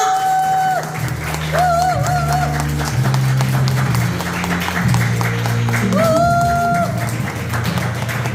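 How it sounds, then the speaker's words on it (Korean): Large crowd applauding at a business success lecture as a company president is welcomed, steady loud clapping throughout, with music playing underneath. "큰 박수 부탁드립니다"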